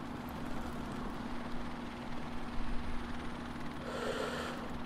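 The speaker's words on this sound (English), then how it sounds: "That's why I don't like the helicopter" A helicopter in the Call of Duty Modern Warfare Remastered video game, a steady low rotor and engine drone holding at an even, moderate level without speech.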